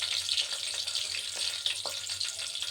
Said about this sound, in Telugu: మిరపకాయలు వేస్తున్నాను.